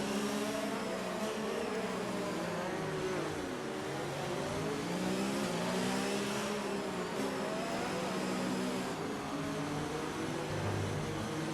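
Formula 1 cars in a racing video game pulling away as the field accelerates behind the safety car: a steady, loud, buzzing engine whine with shifting pitch, continuous throughout.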